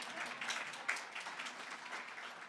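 Audience clapping at a symposium against gender-based violence, a fairly faint, steady patter of many hands lasting a couple of seconds with no speech over it.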